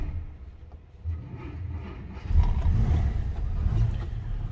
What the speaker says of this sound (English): So let's go ahead and start this up. We have a push button start over on the left side.